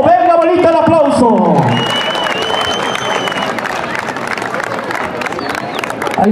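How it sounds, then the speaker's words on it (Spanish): Audience at a village festival in Ajolotes, Michoacán applauding and cheering, a crowd clapping under an announcer's amplified voice, with a brief tonal sound at the start. "Se merece el aplauso."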